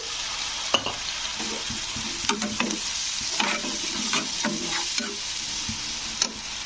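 Chili powder and turmeric stir-fried in oil with a splash of water, for a pointed gourd (potol) dish; a steady broad sizzle runs throughout, punctuated by several sharp scraping clicks of a spoon against the pan, with no talking.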